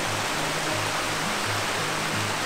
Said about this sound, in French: Donc la cascade de la Charabotte, devrais-je dire les cascades parce qu'il y en a beaucoup.